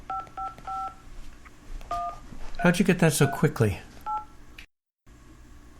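Phone keypad tones beep in a short series of dialed digits on a call to a helpline, then a pause, more tones and a ringing line, with people talking over the middle.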